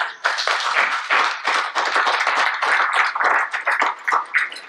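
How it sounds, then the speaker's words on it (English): A room of people at a morning gathering claps for the kitchen crew, a steady, dense round of applause with sharp individual claps near and far, no voices over it. "a round of applause to our kitchen crew."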